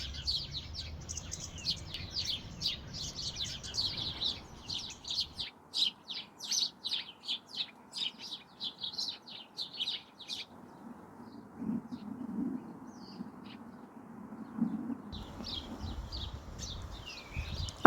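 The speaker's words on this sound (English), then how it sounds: "The sparrows all chattering and arguing with each other." Sparrows chatter and squabble in a small, young Miyawaki-style planted forest, with quick bursts of high chirps coming in clustered runs and pauses over a faint low background rumble.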